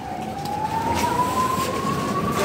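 Ambulance siren on a road during a street protest, a loud steady wailing tone gliding slowly upward over the hum of traffic and the noise of the scene, with no talk.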